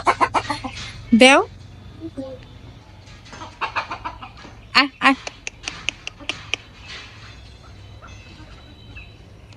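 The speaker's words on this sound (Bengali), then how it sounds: "ওই যে মুরগি আসছে" Backyard chickens clucking and calling at feeding time, a few sharp bird calls scattered across the clip with a louder burst near the start, heard close by under frequent talk from a child and adults.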